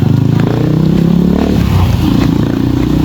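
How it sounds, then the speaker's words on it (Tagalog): Motorcycle engines rumble close by amid busy traffic clatter, a continuous loud mechanical drone without speech. "Tingnan nyo tong mga motor na to."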